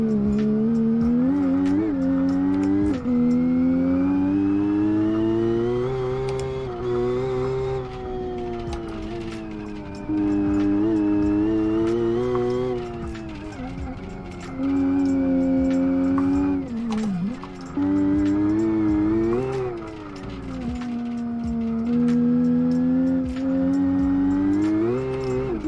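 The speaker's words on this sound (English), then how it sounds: "That's wheel spin or clutch slip. You hear the revs jump up." Nurburgring race car engine screaming at high revs throughout, the pitch climbing and sliding as the revs jump from wheel spin or clutch slip, loud and close, with no talk.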